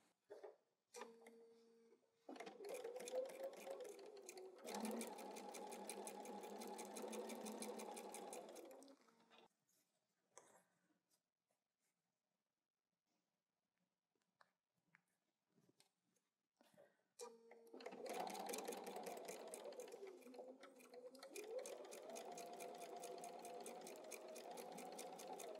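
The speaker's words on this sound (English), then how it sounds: "So let me go get this sewn together." A sewing machine stitches quilt fabric pieces together in two long, steady runs of rapid mechanical stitching, separated by a quiet pause with only light handling noises.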